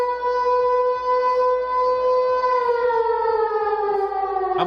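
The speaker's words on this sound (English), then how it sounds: "I'm sounding the sirens." A civil-defense-style siren sound effect played on a livestream, one long loud wailing tone held steady and then sliding slowly downward near the end, with no voice over it.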